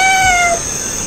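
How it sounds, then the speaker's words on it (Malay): A cat meows once in a short, clear, fairly loud call that fades after about half a second, leaving quiet background hiss. "Sang tikus menemui seekor kucing."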